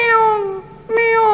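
A voice imitates a cat with two loud, close meows in quick succession, each drawn out and falling in pitch, with a short gap between them.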